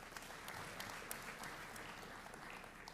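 A convocation ceremony audience applauds, a dense, even, continuous clapping from a large crowd, heard at moderate distance and quiet overall.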